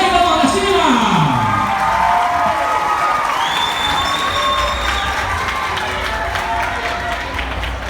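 Festival audience at a June bonfire celebration in Aratuba, Ceará, applauding and cheering in a steady, loud crowd wash that fades slightly toward the end, with shouts and voices mixed in.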